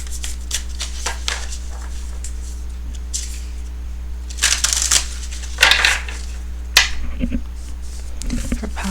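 Sacred Destinies Oracle deck cards shuffled by hand, producing bursts of riffling and rustling at varying intervals over a constant low hum, with a brief pause mid-way and a few soft taps near the end.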